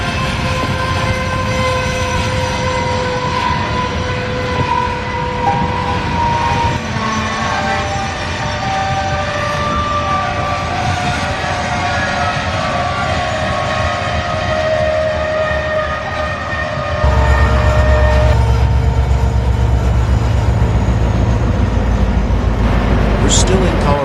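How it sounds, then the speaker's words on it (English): A Burlington Northern Santa Fe coal train rolls through snowy Monument, Colorado, a loud continuous rumble and rattle of wagons with horn-like tones, growing heavier in the final stretch. "Here is a Burlington Northern Santa Fe coal train in Monument, Colorado"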